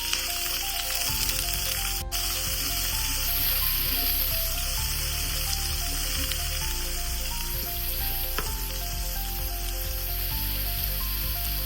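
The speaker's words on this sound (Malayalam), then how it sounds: "സവാള ഇട്ട് കൊടുക്കുക, വഴറ്റിയെടുക്കുക." Onion, garlic and green chilli sauté in hot oil in a pan for a potato masala curry, giving a continuous close sizzle that runs throughout alongside steady tonal background sounds.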